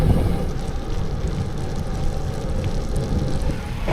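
A northeast tailwind buffets the microphone of a cyclist riding along a flat riverside path in Quebec, a loud, continuous low rumble of wind noise with no talking.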